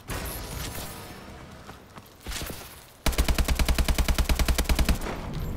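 AK-12 assault rifle in Call of Duty: Advanced Warfare multiplayer, a rapid burst of about twenty loud automatic shots in even rhythm after a few seconds of quieter game noise and scattered footsteps.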